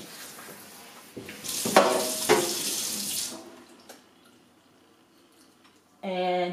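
Water runs from a tap into a sink while a Cavalier King Charles Spaniel puppy is bathed, a steady trickle rising and splashing in bursts, with a voice speaking over it before another short gush near the end.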